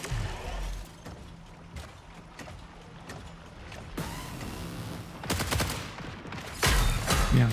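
Sporadic gunfire and mechanical clanks in the sci-fi shooter video game Marathon, with several short bursts toward the end over a low background, as a player talks quietly in French.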